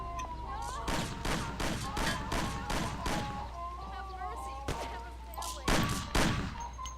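Gunfire in the video game Mafia: The City of Lost Heaven, with a rapid burst of sharp shots at the start and more scattered shots later, over game ambience and music, while someone talks.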